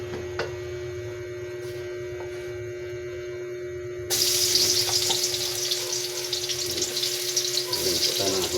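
Garlic sizzles in hot oil in a frying pan, a low hum at first, then a sudden, loud, steady crackle that fills the second half with no talking.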